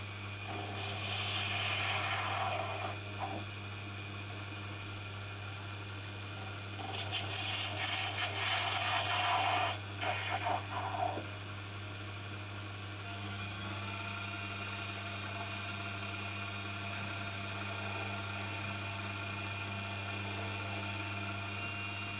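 A small metal lathe runs while a watch hand press tool is being made, with a steady low motor hum and two bursts of louder, higher whirring cutting noise early on before the machine settles back to its hum.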